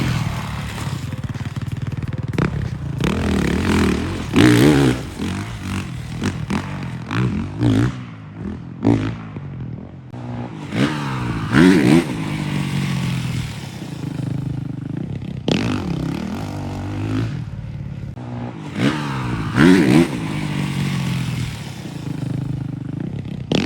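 A motocross motorcycle laps a dirt track, its engine revving up and down in repeated surges with gear changes and fading passes, heard from trackside at varying distance.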